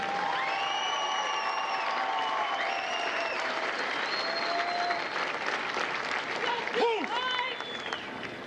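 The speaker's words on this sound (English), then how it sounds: "Please join me in a round of applause for the company staff of Bravo Company." A large crowd applauds at a Marine Corps recruit graduation ceremony at MCRD San Diego, a continuous dense clapping with a few whistles and cheers rising over it throughout.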